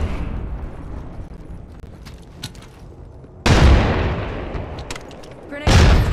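A grenade goes off in a first-person shooter video game: scattered gunfire crackles, then two loud, sudden booms, each rumbling away afterward.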